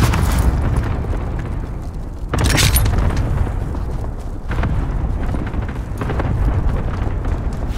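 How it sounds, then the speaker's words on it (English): Heavy airstrike blasts boom through a battle royale game match, several deep rumbling explosions arriving one after another at close range and loud, with no talk over them. "may airstrike pa dito"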